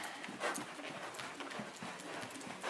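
Horse hooves walk during a saddleseat riding lesson, a steady clip-clop rhythm muffled under a constant wash of arena noise, fairly distant.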